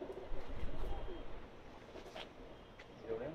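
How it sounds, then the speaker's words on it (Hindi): Pakistani pigeons cooing at a loft in Jeddah, low soft coos close by over a steady outdoor murmur, with faint background chatter. "उस्ताद मुजफ्फर, कैसर भाई, अंसर भाई के कबूतरों का शौक करते हुए जद्दा में।"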